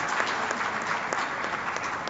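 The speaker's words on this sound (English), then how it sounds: "she needs a big round of applause for that" An audience at a national family planning summit applauds Vinam, producing a steady, dense wash of clapping that holds evenly throughout.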